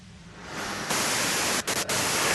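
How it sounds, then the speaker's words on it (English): Radio static in the Disco Elysium video game, a harsh hiss that swells in, then jumps to a loud, dense wash with a few brief dropouts, heard alone with no voices. "you can do it through the white noise"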